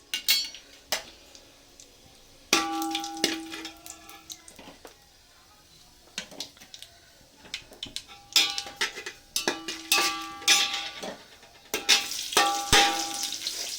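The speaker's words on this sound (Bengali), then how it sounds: "বাদাম আর কিশমিশ কাজু বাদাম ভেজে নিচ্ছি একটু" Cashews and raisins are fried in ghee with whole garam masala in a pan, giving a soft sizzle under repeated metallic clinks and scrapes of a spoon against the pan, arriving in irregular close bursts with quieter pauses between.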